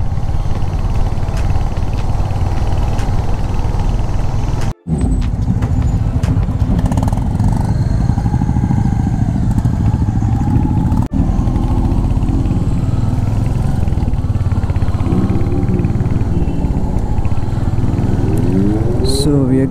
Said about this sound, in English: So we have a Z900 along with us, which sounds like bonkers.